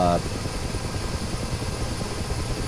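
Huey helicopter in a flight simulator game, a steady loud rotor thump with engine whine running continuously throughout, no talking.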